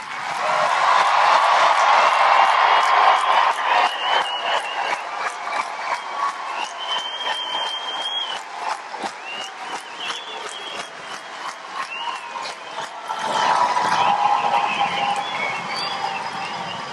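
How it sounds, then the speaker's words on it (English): Sustained crowd applause at an Air Force training squadron airman's coin ceremony honoring new graduates, a dense, steady clapping wash that holds loud throughout, dips slightly midway, then swells again near the end. "I want you to stand and join me in giving our newest nation's heroes a much deserved round of applause"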